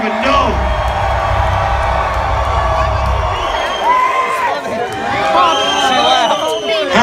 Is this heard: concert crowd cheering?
yes